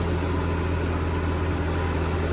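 A heavy 3630 tractor engine runs with a steady, deep, close drone that holds unchanged throughout, with no voices over it.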